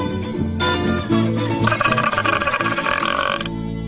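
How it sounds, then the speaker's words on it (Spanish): Burp after drinking a warm beer, a loud, drawn-out belch over several seconds, close and prominent with no talk over it. "El eructo de una bebida caliente es mucho más grotesco y mucho más pútrido"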